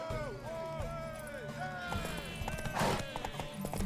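In The Witcher 3, a horse gallops in a race against the Baron: rapid, rhythmic hoofbeats pound close by as voices call out over them.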